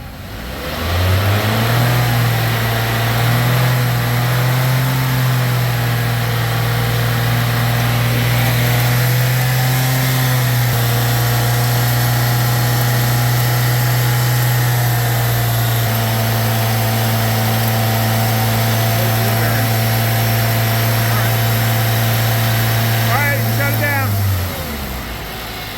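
A car with a CVT is spun up on its wheels, a sustained steady engine and drivetrain drone carrying the whine of worn wheel bearings, loud and close for about twenty-five seconds.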